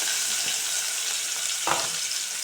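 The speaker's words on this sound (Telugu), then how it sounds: "2 చిన్న సైజు ఉల్లిపాయలు ఇవి లైట్గా గోల్డెన్ కలర్ వచ్చేలా ఫ్రై చేసుకోవాలి." Chopped small onions frying in a pan with tempering spices, a steady sizzle throughout with a soft scrape of stirring near the end.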